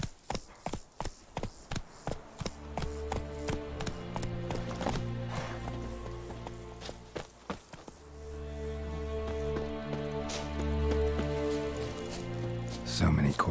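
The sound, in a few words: horse Roach trotting in The Witcher 3 video game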